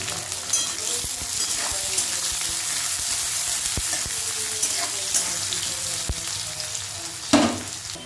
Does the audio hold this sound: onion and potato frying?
yes